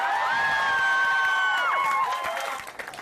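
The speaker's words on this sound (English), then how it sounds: "His activists might be applauding him" Labour activists cheer and whoop at an election-night gathering, with a sustained high-pitched shout over crowd noise and applause that fades toward the end.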